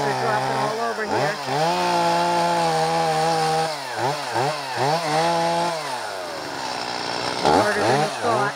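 A chainsaw cuts through wood up close, its loud whining engine rising and falling repeatedly as the throttle is worked, with steady high pitched running stretches between several quick revving bursts.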